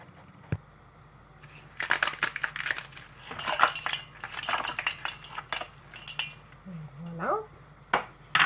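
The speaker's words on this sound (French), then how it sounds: "je vais changer l'eau chaude avec de l'eau glacée" Hot water being swapped for iced water in a bowl while making Swiss meringue buttercream: a busy run of clinking, clattering bowls and ice against metal and glass, close up, with a brief voice partway through.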